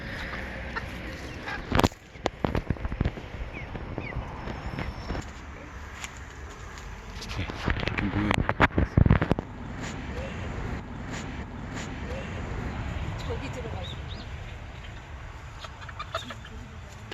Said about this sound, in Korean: 얘는 애완용 닭이고 이게 얘네들도 이렇게 놀고 있습니다